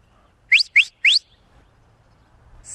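A person from Wyoming whistles to call alpacas, making three quick, sharp, rising whistles in close succession, loud and near. A faint higher tone follows after a quiet pause.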